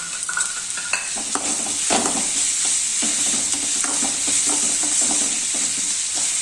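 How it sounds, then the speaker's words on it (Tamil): Onions sautéing with rock salt in a pan, a steady close sizzle with repeated scraping stirs throughout, no voices. "இப்போ இந்த வெங்காயம் வதம் வதங்கும் போதே நம்ம தேவையான அளவு கல் உப்பு போட்டுக்கலாம்"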